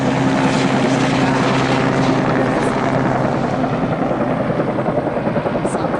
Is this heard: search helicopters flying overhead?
yes